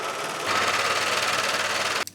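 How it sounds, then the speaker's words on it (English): An overlocker sewing machine serging along the raw edge of a fabric panel for a mini ruffle skirt, a steady loud mechanical whir starting after a brief quieter run-up and stopping abruptly near the end. "Next, I am going to overlock the edge of this fabric so that my fabric"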